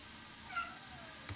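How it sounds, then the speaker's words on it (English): A pet cat named Mufasa gives a single faint, short meow indoors, with a second soft chirp-like sound just after, against a quiet background hum. "That's my cat, Mufasa."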